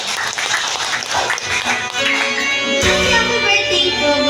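An audience claps and applauds at a birthday celebration mini concert, loud sustained clapping that swells midway, with a voice speaking over it early on.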